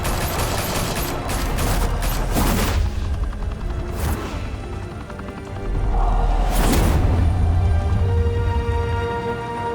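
Gunfire in the video game Batman: The Telltale Series: loud bursts of shots and impacts over a dense, continuous rumbling din, with several sharp volleys standing out.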